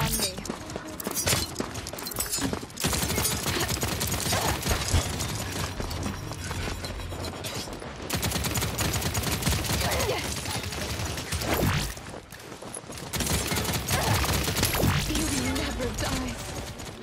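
Gunfire from a Paladins match, the hero shooting at long range: dense, loud bursts of shots packed together across the whole stretch, mixed with game music and effects, with short drops in level between bursts.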